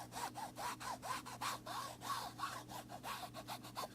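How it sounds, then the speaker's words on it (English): An ink pad is rubbed back and forth across the edges of a wood panel for a mixed media collage, making a steady, rhythmic scraping of quick repeated strokes, close and fairly loud, with no talking. "So I just rub the ink pad"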